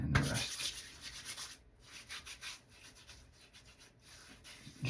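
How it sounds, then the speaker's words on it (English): Hands rub oil through beard and mustache hairs, a soft, close, hissing brushing that pulses in repeated strokes, quiet and alone. "Just rubbing the hairs on my beard."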